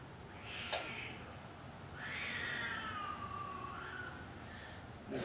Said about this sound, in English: There's a cat getting ready.